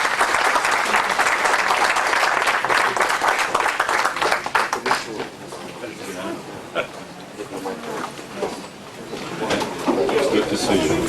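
Audience at a policy forum debate applauds the speakers, loud sustained clapping that tapers off midway into scattered claps and murmuring conversation as people begin chatting.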